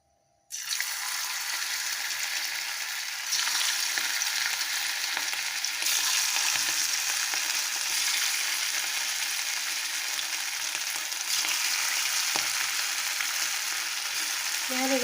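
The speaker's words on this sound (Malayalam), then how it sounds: "നമുക്കിനി ഇതിലേക്ക് ഓരോന്നായി ഇട്ട് കൊടുത്ത് ഫ്രൈ ചെയ്ത് എടുക്കാം." Marinated chicken 65 pieces deep-fry in hot coconut oil with curry leaves in a kadai. After a short quiet start, a loud, dense hiss and crackle of frying sets in and holds steady throughout.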